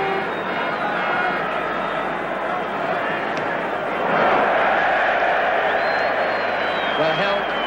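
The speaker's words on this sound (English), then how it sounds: "Crowd buzzing, arguing, wondering, are Germany going to pull it out of the bag again" A large football stadium crowd at the 1966 World Cup final between England and Germany keeps up a constant distant buzz and murmur, swelling briefly partway through, under a commentator's steady talk.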